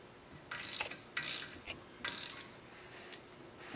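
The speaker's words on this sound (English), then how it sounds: "Tighten those guys down in a crisscross pattern." A ratchet wrench tightens the wheel bolts on a 100 Series Land Cruiser in a crisscross pattern: three separate bursts of quick ratcheting clicks against a quiet background, with no talking.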